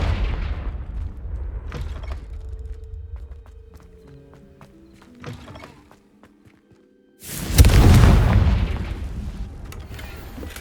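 Confringo blasting spell in Hogwarts Legacy, heard as a sudden loud explosive burst with a booming rumble late in the clip, after quieter footsteps and faint tonal game sounds.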